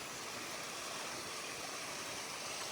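A river on the Continental Divide Trail flows with a steady, unbroken rushing wash, clogged with fallen trees, and no voices are heard.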